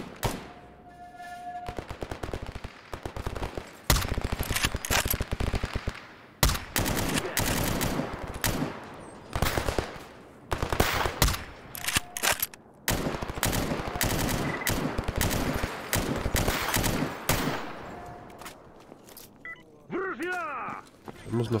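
Rapid gunfire from firearms in S.T.A.L.K.E.R. G.A.M.M.A., with dense bursts and sustained volleys that keep going almost without a pause, loud and close, broken by brief gaps.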